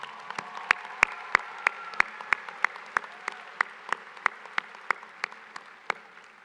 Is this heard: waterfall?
no